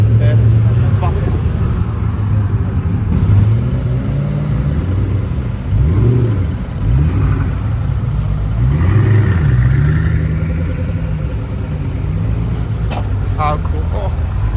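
A Koenigsegg engine at the Goodwood Festival of Speed, a loud, close low rumble with several swelling rev pulses over a steady drone, crowd ambience around it.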